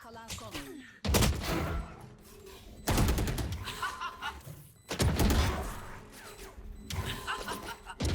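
Bursts of rapid gunfire in the Valorant video game, loud and repeated in several volleys across the clip, with brief quieter gaps between them.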